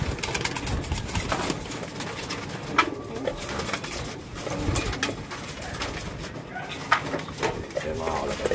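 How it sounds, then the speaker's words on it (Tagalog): Pigeons being fed in a loft, with cooing and bird calls through a dense, busy clutter of activity and some speech, a dog barking now and then. "Ngayon pakainin natin sila mga kalapatids."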